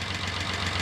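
Datsun 240Z engine idling with open carburetors sucking air, a steady close rumbling drone with a pulsing intake hiss throughout, no talk.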